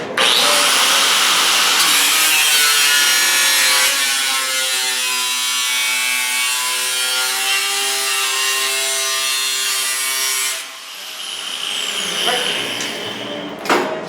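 Power saw cutting through the sheet-metal cowl of a 1931 Ford chopped coupe, a loud steady whining cut running about ten seconds, then dropping off into quieter shop clatter and a few knocks.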